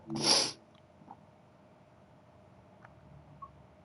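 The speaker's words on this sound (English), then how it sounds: "You probably hear me sneezing here." A single sharp, close sneeze bursts out at the very start during a sneezing fit, then only faint room noise with a couple of small clicks remains.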